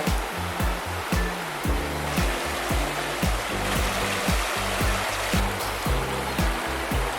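Brown, muddy river water on a hiking trail in England pours past in a loud, continuous rush close to the microphone, joined by intermittent low tonal humming.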